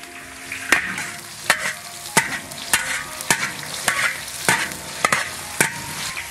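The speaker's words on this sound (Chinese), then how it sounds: "葱姜蒜下进去爆香" Scallion, ginger and garlic stir-fried in rapeseed oil in a big wok, a bright continuous sizzle punctuated by regular sharp spatula clanks roughly every second, close up, with no talking.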